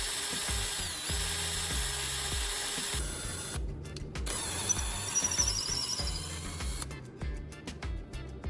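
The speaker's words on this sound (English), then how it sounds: "Next, I drill a hole at the end of the rod, following the length of the wood." A power drill whirs lengthwise into the end of a wooden rod held in a vise, with shifting pitch, pausing briefly and restarting, steady and close.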